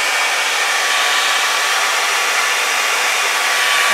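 Hair dryer blowing steadily on a fluid acrylic Dutch pour painting, a loud continuous airy roar with a faint motor whine from start to finish.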